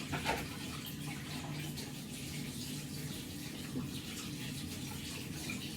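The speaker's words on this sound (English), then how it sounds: "I'm just going to wash my hands." Tap water runs steadily at moderate level while hands are washed, a continuous broadband hiss with faint soft splashes throughout.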